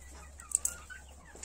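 A couple of short clucks from a rooster and hens, close by, over a steady low hum and quiet farmyard background.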